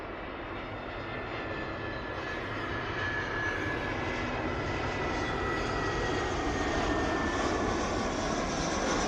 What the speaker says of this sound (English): Go on, EasyJet, bring it down.